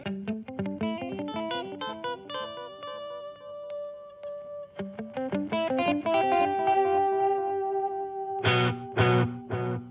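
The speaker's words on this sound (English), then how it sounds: "So here is the delay." Electric guitar through a delay pedal, notes ringing out with repeating echoes trailing each pick, building into overlapping sustained tones before a few loud strummed chords.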